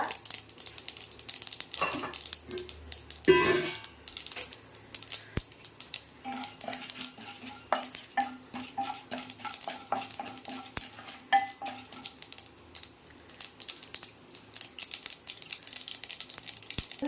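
Mustard seeds, urad dal and chana dal crackle and pop in a hot pan with steady frying sizzle, punctuated by scraping and clinks of a spoon stirring against metal.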